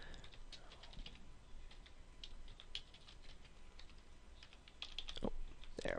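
Quiet, steady typing on a computer keyboard, a patter of light key clicks at an even rhythm with a brief busier burst near the end, no speech.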